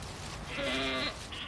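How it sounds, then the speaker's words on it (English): Endangered Pinzgauer goats, a mountain breed from western Austria, give one clear, close bleat lasting about half a second, with a shorter fainter call after it and no talking. "They are endangered Pinzgauer goats, bred especially for the mountains of Western Austria."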